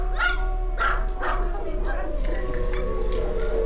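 Dog barking inside the horror video game Balavour, several sharp repeated barks and yips in the first half, loud and close over a steady low game drone and music.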